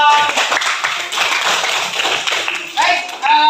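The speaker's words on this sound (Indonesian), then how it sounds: "Oke, tepuk tangan dong." A group of participants claps hands together at an academic coaching session, a dense burst of clapping mixed with voices and chatter, briefly easing near the end before resuming.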